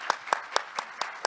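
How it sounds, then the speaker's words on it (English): Audience applause at a talk on inequality, heard as a brief run of about six evenly spaced, distinct claps over a soft background. "So if you guys give him a round of applause."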